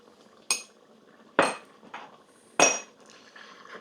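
A utensil stirs beef stroganoff in a pot, three distinct metallic clanks against the rim spaced about a second apart with faint scraping between, close and fairly crisp, no voices.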